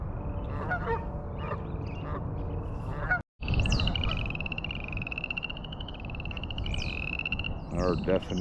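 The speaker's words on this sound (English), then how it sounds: "There are definitely frogs making all this noise." Frogs croak in a dense continuous chorus at Barr Lake, Colorado, with rising honking geese calls over it after a brief break, loud and close outdoors.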